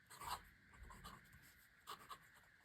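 Pelikan fountain pen nib scratching across Midori cotton paper, a quiet close-up scrawl with a brief louder stroke near the start and a couple of short strokes later, faint and intermittent.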